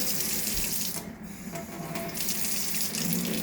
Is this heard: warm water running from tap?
yes